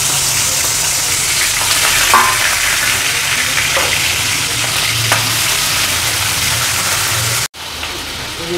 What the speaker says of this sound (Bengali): তেলটা ভালো করে গরম হয়ে গেছে, আমি এগুলো ভেজে নেব চিংড়ি মাছগুলো।